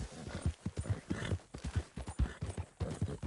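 Horse hooves clip-clop at a steady, even walking rhythm in the Red Dead Redemption video game, close and fairly loud throughout, with no talk over them.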